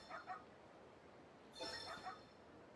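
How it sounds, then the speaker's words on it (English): A dog in the video game Yakuza 0 gives two short bursts of faint, yappy barking, one at the start and one just past the middle. "Just gonna keep barking, dog?"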